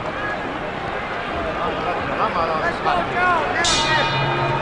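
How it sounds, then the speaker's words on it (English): A boxing ring bell marks the start of round 13 in the 1971 Joe Frazier vs Muhammad Ali fight. It rings briefly over a loud crowd and a commentator's voice. "There's the bell."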